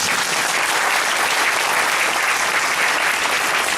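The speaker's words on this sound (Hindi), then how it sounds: "ताली तो बजाइए।" A church congregation at a Sunday service claps together in sustained, even applause, a dense wash of hand claps filling the room with no break and no voices rising above it.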